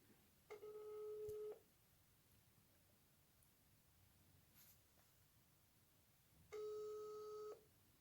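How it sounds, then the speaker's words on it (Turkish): Outgoing phone call ringback tone: two long electronic ring bursts about five seconds apart, each lasting roughly a second, heard quietly through a phone with near silence between. "Çalıyor."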